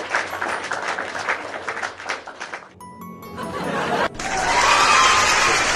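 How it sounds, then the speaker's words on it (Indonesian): An audience claps at the close of an evening lesson on CPNS and SNBT test questions. A burst of broadband applause swells in the final seconds after quieter, murmured noise and a few chime-like tinkles. "Kita tepuk tangan dulu ya."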